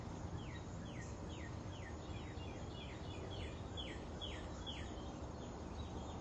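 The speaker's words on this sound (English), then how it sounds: "I can hear the birds chirping," Outdoors on a morning in Illinois, a bird repeats a quick high chirp in a steady series of short downward notes, fairly faint over a constant low wash of distant traffic and ambient noise.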